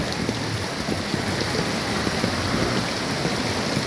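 Steady rain pours down during a flood, a dense continuous hiss with patters on surfaces, loud and close, with no voices.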